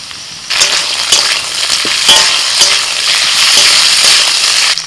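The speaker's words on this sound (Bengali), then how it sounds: "আলু পেঁয়াজ একটু ভেজে নিয়ে এবার দিয়ে দিচ্ছি আদা রসুন বাটা" Ginger-garlic paste hits potatoes and onions already frying in oil, setting off a loud, close burst of sizzling with dense crackling and irregular stirring scrapes that carries on to the end.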